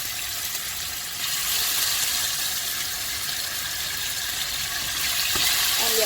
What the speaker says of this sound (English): So now I'm adding the oxtail.